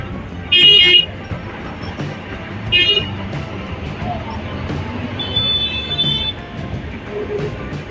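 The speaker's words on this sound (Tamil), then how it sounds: "பார்த்தீங்களா எவ்வளோ டிராஃபிக் இருக்கு." Busy road traffic near a bridge, with two loud, short horn toots early on over a continuous rumble of passing vehicles and a faint tonal squeal later.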